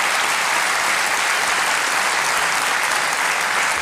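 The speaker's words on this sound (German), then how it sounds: "Applaus, bitte." A German studio audience breaks into dense, steady applause at a political satire show, loud and sustained throughout with no talking over it.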